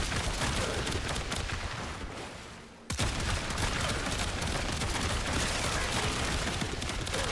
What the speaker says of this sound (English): Now I'm going to shoot him in the fucking head.